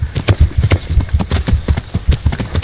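Horse hooves clip-clop at a quick, steady trot in Kingdom Come: Deliverance, close and rhythmic across the whole stretch with no voices.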